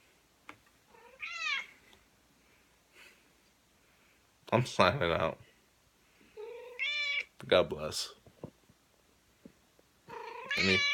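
A cat meows several times at close range, its rising and falling cries spaced through the clip between stretches of someone talking.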